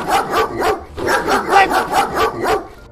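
A dog barks in a rapid run of repeated yaps with short pauses, fairly close and loud, mixed with whimpering yips, during a prank with a man in a plastic bag.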